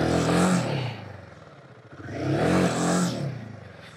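A Royal Enfield Himalayan 450 motorcycle revs hard off-road, its engine rising in two strong swells with a dip between them, loud and close, with no talking.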